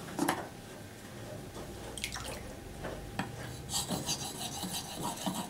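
A blade is polished on an 8,000-grit Nagra stone with chalky slurry, giving soft, wet rasping strokes in an irregular back-and-forth rhythm, quiet and close with no voices.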